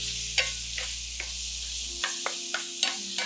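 Shrimp stir fry with ginger cooking in a pan, a steady sizzle under a few soft, evenly spaced scrapes and taps of a utensil as it is stirred.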